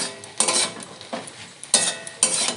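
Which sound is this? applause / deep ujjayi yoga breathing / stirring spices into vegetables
stirring spices into vegetables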